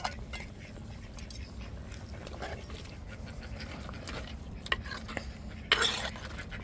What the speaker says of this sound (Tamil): இப்போ இஞ்சி பூண்டு நம்ம அம்மியில் அரைச்சதை குழம்புல சேர்த்து கிண்டி விட்ருவோம்.